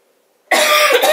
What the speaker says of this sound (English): The coughing thing